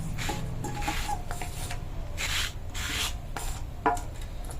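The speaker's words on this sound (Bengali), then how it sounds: "বাকি চালটাও বেটে নিব।" Raw rice is ground on a grinding stone, making a steady, close, rhythmic rubbing and rasping scrape with repeated back-and-forth strokes.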